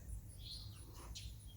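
Birds in a garden giving a few faint, quick chirps and tweets over a low background rumble, brief and somewhat distant.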